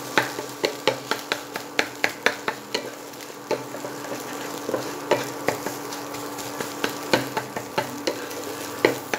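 An egg fries in a pan for restaurant-style Chinese egg fried rice while being stirred and smashed, with steady sizzling broken by repeated sharp scrapes and taps of a utensil on the pan.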